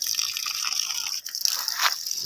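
Water poured over a bougainvillea growing in a polybag, a steady wet hiss and trickle close up with a brief splashing surge toward the end, no talking.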